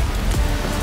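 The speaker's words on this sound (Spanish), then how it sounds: "está que llueve, no está que llueve a cántaros, pero está que llueve considerablemente" Steady rain pours outdoors in a deserted open area, a dense continuous hiss of drops hitting surfaces, moderately loud and close, with no voices.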